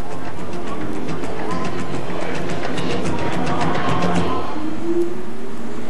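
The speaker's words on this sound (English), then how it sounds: "Automated trains whisk passengers to its 41 aircraft gates." The automated terminal train at Kansai International Airport runs with a loud, steady rumble and faint rhythmic clatter, accompanied by a rising electric whine near the end.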